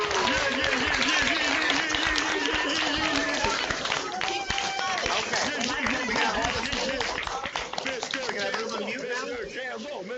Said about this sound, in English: unmute your microphones and join me in giving a warm round of applause to Pro Football Hall of Famer, Mr. Earl Camp